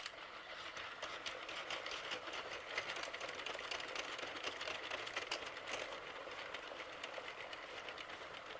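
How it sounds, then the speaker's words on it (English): Needles of a Sentro knitting machine catch yarn while an adult hat is knitted, a steady, fast mechanical clatter of clicks running continuously and fairly loud, with no voices over it. "I just love the sound of the needle as it picks up the yarn."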